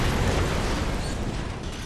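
A dense, roaring blast from an explosion in the video game Far Cry 3 Blood Dragon, loud and broadband, sustained for a couple of seconds with no talk over it.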